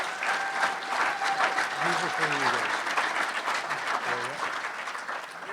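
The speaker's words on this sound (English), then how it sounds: "So give these guys a big round of applause," Audience applause fills a welcome-and-announcements gathering, steady dense clapping throughout, with a speaker's voice talking over it.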